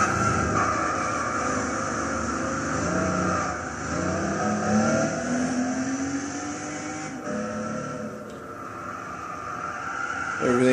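A 1987 RUF CTR Yellow Bird laps Tsukuba in Gran Turismo 6, its engine note rising and falling through gear changes, with loud revving and a brief tyre skid.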